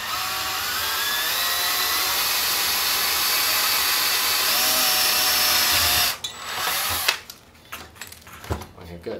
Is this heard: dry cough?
no